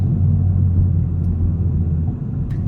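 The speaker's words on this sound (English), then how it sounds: "Hyundai really mastered the art of exhaust systems and of sound of cars" Low, steady exhaust rumble from a Hyundai i30 N Performance with dual-clutch transmission, a deep close drone that eases slightly near the end, with no talking.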